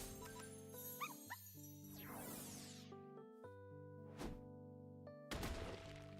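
Minecraft dogs being struck and killed in the video game, short yelps and whimpers with thwacking hits, heard faintly over layered background music without speech.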